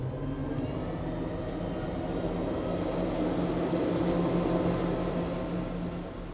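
A fishing boat powered by 450R outboard engines speeds along at about 50 mph, giving a steady, loud, continuous engine roar and hull rush that holds level throughout without a break.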